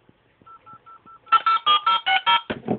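Telephone keypad tones beep in a quick series of evenly spaced presses, faint at first and then louder, before a brief burst of line noise at the end.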